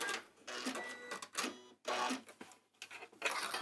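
A sewing machine stitches a fabric bag handle within the seam allowance, running in short mechanical bursts of rapid whirring separated by brief pauses, close but soft.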